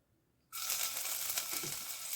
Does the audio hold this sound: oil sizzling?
yes